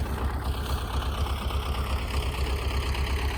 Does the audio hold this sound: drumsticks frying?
no